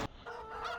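Chicken on a farm in the Farming Simulator 2015 video game, a brief squawking cluck close up, short and alone.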